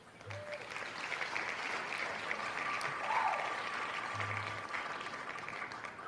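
Soft, even applause runs throughout, a faint wash of distant clapping with a slight swell midway and a couple of low hums underneath.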